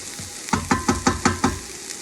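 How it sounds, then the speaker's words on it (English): Onions cooking in a soup pot, six evenly spaced scraping stirs over a steady sizzle, close and fairly loud with no voices. "These onions are going to continue to cook with the rest of the soup."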